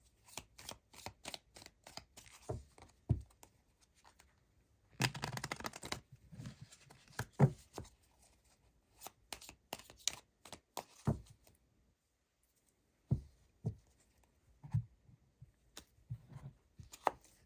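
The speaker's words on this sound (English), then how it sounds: "Let's get some Everyday Witch Tarot cards on here for your confirmation cards." Everyday Witch Tarot cards are handled and laid out, giving soft shuffling riffles, slides and light taps in scattered bursts with short pauses, close and fairly quiet, with no talking.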